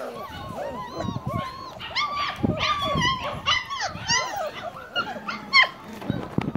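Several dogs whine, yip and bark together in a busy overlapping chorus of high, wavering cries close by, with a person's voice mixed in.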